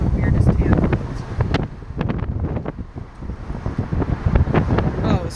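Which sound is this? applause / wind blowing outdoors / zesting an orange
wind blowing outdoors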